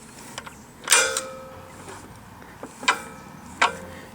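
Freed-up parts of a previously seized Gravely engine move with a few sharp creaks and mechanical clicks, close and fairly loud, separated by short quiet gaps.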